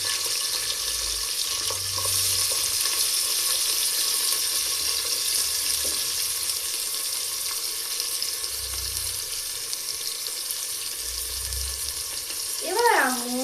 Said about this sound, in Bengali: সব মশলাগুলো তেলে চটপট করছে